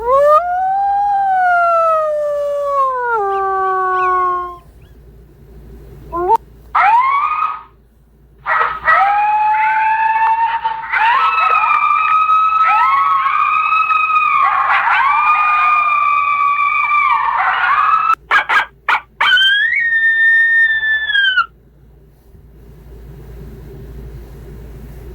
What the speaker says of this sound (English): different coyote howls.